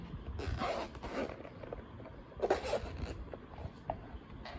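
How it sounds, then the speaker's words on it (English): Packaging for a Skyvik Signi mobile phone lens kit rustles and scrapes close by as it is opened, with scattered crinkles, tearing and handling noises coming in irregular bursts. "Let's unbox this one."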